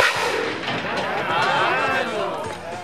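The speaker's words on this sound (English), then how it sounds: "If we're going to shoot pumpkins out of a can, what have we got to put in a can?" A pumpkin cannon fires a pumpkin at an outdoor event: a loud, sustained booming blast and rushing roar lasting nearly three seconds, close and overwhelming.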